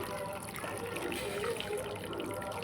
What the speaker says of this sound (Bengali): এই পাত্রের মধ্যে জাল করে রাখা গরম দুধটা আমি ঢেলে দিচ্ছি